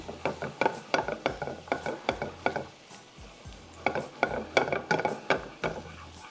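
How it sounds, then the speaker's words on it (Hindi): A wooden spoon stirs black rice and black beans in a pan over high heat, giving rhythmic scraping strokes in quick bursts with a short pause midway, close and fairly quiet. "एंड अब हम सारी चीज़ों को करेंगे अच्छा सा स्टर।"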